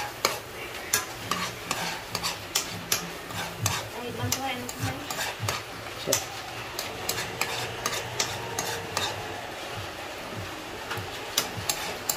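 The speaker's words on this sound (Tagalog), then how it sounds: "Gigisahin muna yung karne ng baka." Beef sautés in a hot pan, a continuous sizzle broken by frequent scraping stirs and utensil clicks, close and fairly quiet throughout.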